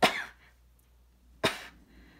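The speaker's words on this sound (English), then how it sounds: "oh, I did cough into my elbow" Two sharp coughs about a second and a half apart, close and fairly loud, with quiet pauses between.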